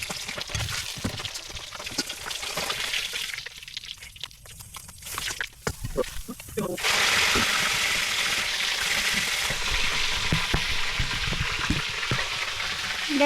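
Two tilapia fry in hot oil in a home kitchen, a steady sizzle and crackle with brief quieter gaps early on before the frying settles into a loud, continuous hiss.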